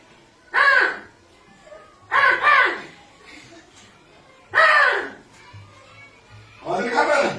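A toy crow lets out four short, harsh caws when touched, spaced a couple of seconds apart and heard up close.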